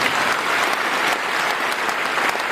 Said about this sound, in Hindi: तो मैं चाहूंगा एक बार सबके लिए जोरदार ताली होनी चाहिए दोस्तों